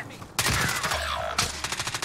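Sniper rifle fire in an online shooter game, sharp loud shots with rapid repeating bursts and a ringing tail, close, while players talk over it.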